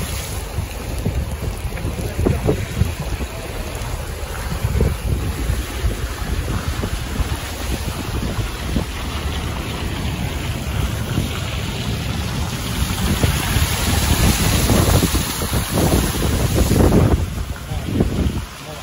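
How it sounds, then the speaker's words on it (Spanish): Heavy rain and gusting wind batter the microphone in Tijuana, a loud, continuous roar with rumbling gusts that swell toward the end. "Horas llueve y llueve."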